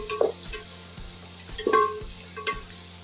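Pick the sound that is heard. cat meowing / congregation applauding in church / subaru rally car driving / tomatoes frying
tomatoes frying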